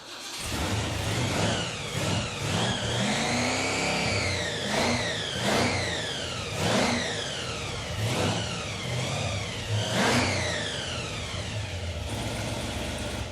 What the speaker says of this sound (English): The blown 383 runs mint.